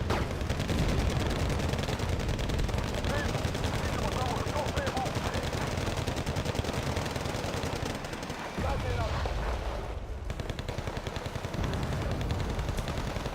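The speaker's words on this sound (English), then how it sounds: "All the machine guns." Machine guns in the real-time strategy game Wargame Red Dragon rattle in continuous, dense rapid fire for most of the stretch, loud with layered distant bursts and a brief lull near the end.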